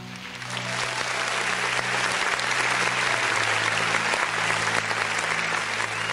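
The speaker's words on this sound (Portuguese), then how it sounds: "Dá uma salva de palmas para Jesus." A church congregation applauds together in sustained, dense clapping that builds quickly and holds steady for several seconds, with a faint low hum of the hall beneath.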